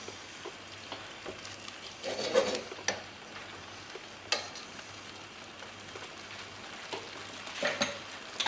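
Fish pie sauce bubbling and sizzling in a pan, a low, steady simmer with soft pops and occasional stirring scrapes, fairly faint and close, with no talking.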